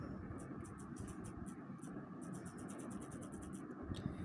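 Light keystrokes tap out text on a computer keyboard in quick irregular bursts, soft and close over a steady low background hum, with no voices.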